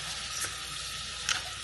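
Soy sauce hits a hot pan in a Filipino home kitchen and a continuous sizzle rises from it, with two brief louder spits breaking through the frying hiss.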